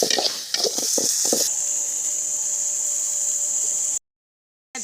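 Ginger garlic paste fries in a pan for a banana stem stir-fry cooked outdoors in a village field, with a few utensil scrapes and clinks at first, then a steady loud sizzle.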